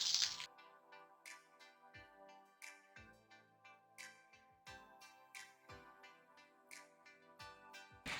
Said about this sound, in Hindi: इस तरह हम चम्मच से मैश कर लेंगे